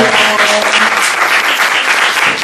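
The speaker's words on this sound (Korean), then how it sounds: "박수로 보내드리도록 할게요" Close, loud applause fills a church house concert, a dense burst of hand clapping from a small crowd lasting a couple of seconds without pause.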